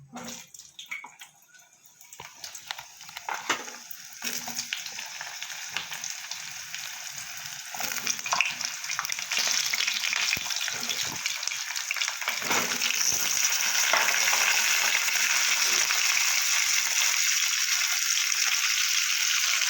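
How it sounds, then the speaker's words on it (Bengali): Finely cut potatoes fry in hot oil, starting with a few clinks and stirs before the hiss swells into a loud, continuous sizzle that holds steady to the end. "গুঁড়ো করে কেটে রাখা আলু ভেজে নেবো"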